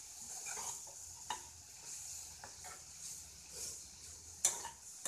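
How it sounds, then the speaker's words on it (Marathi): Kardai bhaji, a Marathi vegetable dish, stir-fried in a pan: a soft, steady sizzle runs under repeated spatula scrapes and clinks against the metal, with several sharper knocks and no speech. "परत ही भाजी परतवूया."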